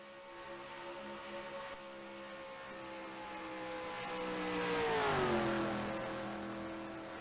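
Race cars pitting during the Pink Ribbon 200 at Michigan: a steady engine drone swells as a car approaches, then drops in pitch as it passes, moderately loud against constant track noise.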